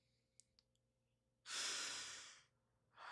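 After a few faint clicks, someone draws a long, deep breath, close and distinct, that swells and slowly tapers, followed by the start of another breath, with no talking.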